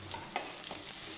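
Crushed garlic drops into hot tempering oil in a pan for a South Indian dish, giving a soft, steady sizzle with a brief crackle, close and quiet, no one speaking.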